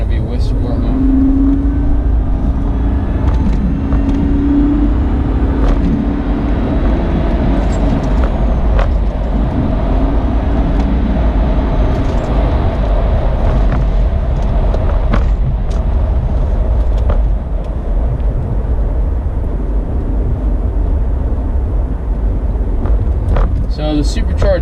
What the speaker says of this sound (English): So the supercharged wind in this car is so amazing.